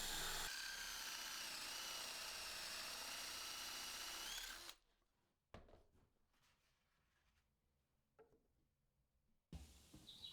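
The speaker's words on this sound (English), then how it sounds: "Now I'll try it with a spade bit." A spade bit drills holes in a wood block, a steady loud whirring run of about four and a half seconds, then near silence with a few faint knocks and a brief burst of handling at the end.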